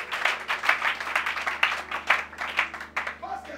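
A church congregation applauding together in a hall, a dense run of overlapping hand claps at moderate distance, steady and sustained with slight swells, with a faint trace of voice near the end.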